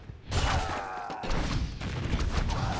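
Cannon and guard towers firing in a Warcraft 3 match, with a sudden burst of dense, overlapping impacts and booms that continues as a steady clatter of battle noise.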